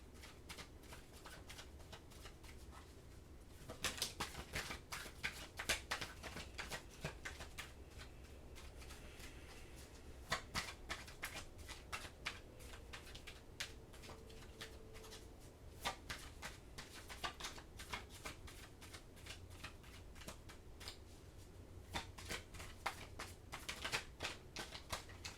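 Tarot cards are shuffled close by and quietly, a continuous stream of soft riffling clicks and taps with brief pauses and bursts, no talk over it.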